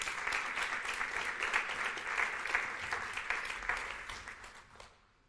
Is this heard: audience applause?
yes